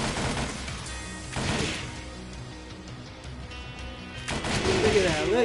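Bursts of gunfire in the story mode of the fighting game Tekken 7, dense rapid shots with crashing impacts, loud and close, with a voice talking over parts of it.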